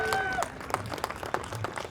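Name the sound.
applause for a speaker at a protest rally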